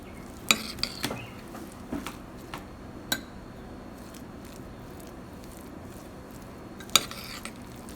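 Crushed garlic and coriander leaves being stirred together in a bowl for cheesy garlic bread, with a few sharp scraping clicks of a utensil against the dish over a soft background.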